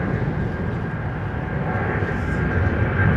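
A jet airliner roars down the runway on takeoff at London Heathrow Airport, a loud, steady, broadband engine rumble that swells slightly toward the end.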